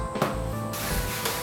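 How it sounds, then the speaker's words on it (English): Adhesive spray is applied to fabric while car interior trim is reupholstered on a drift car. A loud, continuous aerosol hiss starts partway in and runs steadily to the end, close to the microphone. "spray what you're working with first, and then spray this, and then spray your fabric"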